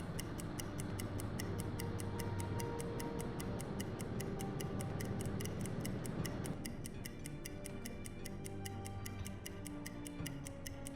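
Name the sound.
ticking stopwatch clock in the video game UBOAT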